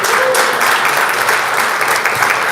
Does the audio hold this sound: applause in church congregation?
yes